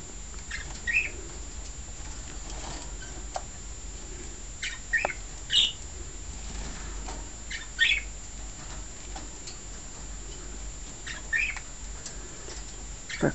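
Parakeets, cockatiels and a canary bathing give soft, scattered chirps and tweets over a low background hum, with occasional brief fluttering and no talk.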